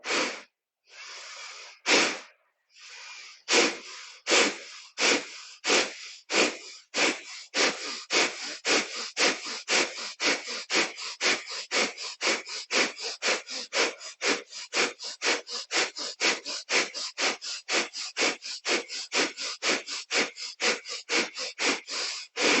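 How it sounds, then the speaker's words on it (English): Bellows breathing during a yoga practice: a few slow, forceful nasal breaths, then a long run of rapid, sharp, rhythmic exhales that steadily speed up, close and loud with no speech. "as you feel more confident with this bellow-like breathing, you're going to increase your speed"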